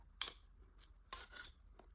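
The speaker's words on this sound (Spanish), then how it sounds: "Estas tijeras son súper económicas." Cheap scissors snip through the cut edge of a tuna tin, trimming sharp metal splinters in two or three quick, crisp cuts, close and clear with no talk.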